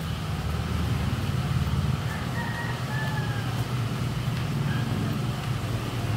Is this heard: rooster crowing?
yes